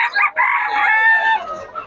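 At a Bocaue chicken market, a rooster lets out a loud, near, sustained crow after a couple of short clucking bursts, then trails off into softer calls from nearby birds.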